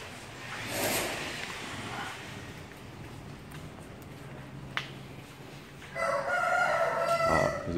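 A rooster crows from a Hanoi alley, a clear drawn-out call near the end standing out over steady background murmur, with a sharp click and distant town noise earlier.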